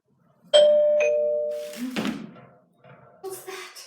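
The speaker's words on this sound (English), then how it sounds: "What's that? The doorbell." A two-tone doorbell chime rings out clearly, followed by a brief thud and some muffled movement nearby.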